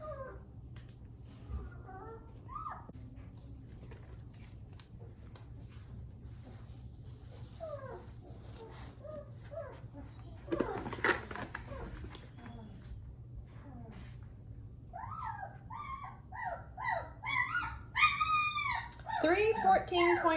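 A three-week-old Bernese Mountain Dog puppy gives faint whimpers early on, then a run of high, wavering cries and whines that grow louder toward the end, with a low steady hum underneath.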